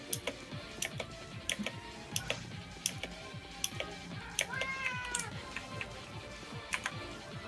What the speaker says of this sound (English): I just hear meow, meow, meow,